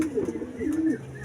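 Racing pigeon cooing close by, a couple of soft low throaty coos in quick succession.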